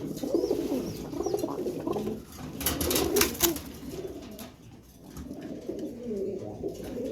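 Silver pigeons coo in low, rolling, repeated phrases close by, a soft continuous chorus with a brief rustle in the middle.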